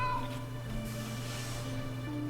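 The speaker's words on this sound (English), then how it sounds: "I hear a cat." A cat in the video game Grim Fandango meows in drawn-out, wavering cries over a low steady hum, fairly close and moderately loud.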